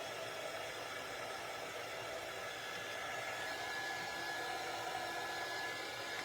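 A heat tool blows steadily to dry paint on a cutout, making a continuous, even, loud whooshing hiss with a faint whine throughout and no pauses.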